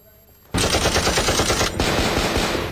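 Rapid automatic gunfire from armed attackers in an ambush in Punjab, some 100 rounds in all, bursts in after a quiet start and stays loud and dense, with sharp close shots overlapping throughout.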